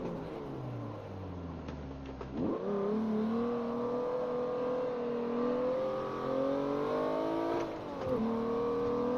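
A Ferrari race car engine in Forza Motorsport 7 screams close and loud, its pitch climbing steadily with two sharp gear shifts, one early and one late.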